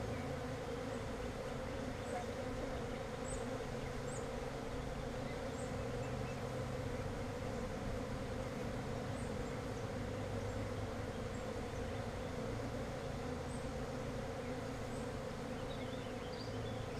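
A colony of honeybees hums steadily from an open hive during a beekeeper's inspection, a dense, even drone of many wings that stays fairly soft and close throughout, with no talking.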